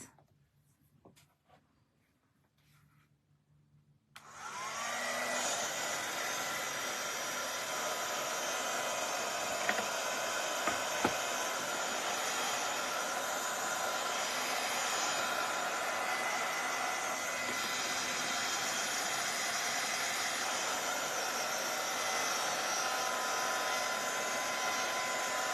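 A hair dryer switches on after a few quiet seconds and then blows with a steady, loud whooshing roar while drying a craft piece, unbroken to the end with a few faint clicks.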